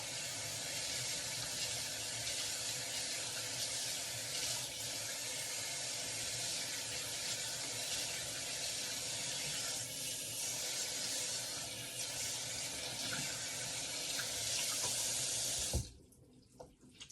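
Tap water running steadily into a sink while a reborn doll's hair is rinsed, a continuous close hiss and splash for about sixteen seconds that stops suddenly near the end.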